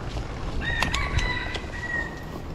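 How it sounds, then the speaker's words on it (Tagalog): A rooster crows once with a long drawn-out call beside a reservoir path, the cry bright and fairly close above a steady outdoor hum, with no talk over it. "Yung manok dito ah. Yung titilaok."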